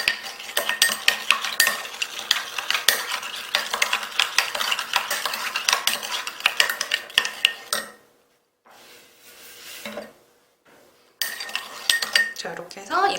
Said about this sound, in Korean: 그 다음에 충분히 섞어주세요.